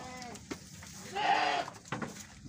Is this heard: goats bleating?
yes